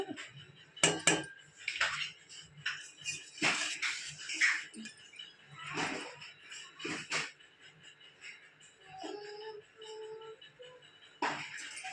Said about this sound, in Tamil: இப்போ இதெல்லாம் சேர்த்து ஒன்றா கிளறிடுவோம்